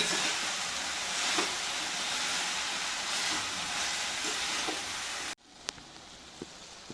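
Grated coconut for a chicken curry sautés in a pan, giving a steady broadband sizzle that suddenly stops, followed by a few faint clinks and near silence.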